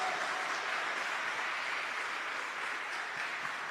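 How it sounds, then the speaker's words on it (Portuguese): Applause from a church congregation, a steady broadband patter of many hands clapping together throughout, fairly even in level with no voices standing out. "Vamos aplaudir?"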